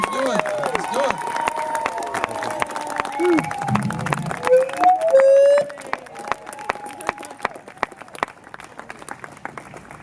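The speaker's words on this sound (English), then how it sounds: "Let's give Jeffrey Brian Adams a big round of applause" A crowd applauds at a 50th anniversary celebration of Robert F. Kennedy in San Jose, steady clapping and cheering mixed with excited voices and babble, with an amplified voice rising briefly over the noise.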